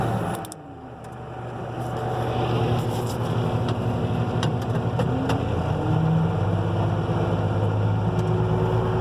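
Farm tractor engine held at raised RPM while its hydraulics lift a toolbar during anhydrous application, a loud, steady drone with a slight rise in pitch, close by and without talking.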